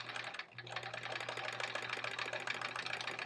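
A sewing machine stitching quilt-as-you-go sampler blocks runs in a steady, rapid mechanical whir with a low hum, close and continuous after a brief pause at the start.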